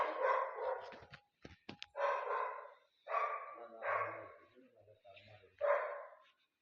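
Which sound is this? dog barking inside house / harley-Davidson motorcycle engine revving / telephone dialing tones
dog barking inside house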